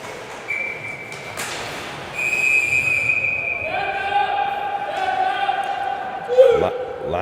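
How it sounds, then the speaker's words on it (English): During a high school varsity ice hockey game, a referee's whistle sounds several sharp tones, one then others overlapping, amid rink noise, thuds and commentator talk. "Lots of whistles there."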